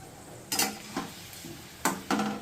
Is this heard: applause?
no